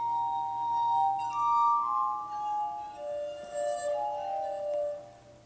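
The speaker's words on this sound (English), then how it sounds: "he was very good at playing the glass harmonica, which is a strange little instrument" Glass harmonica played solo, sustained ringing glassy tones gliding and overlapping in a slow, eerie melody, close and clear with no talk.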